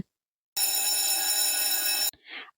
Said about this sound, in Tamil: அந்த நேரம் பார்த்து கரெக்டாக பெல்லும் அடிக்குது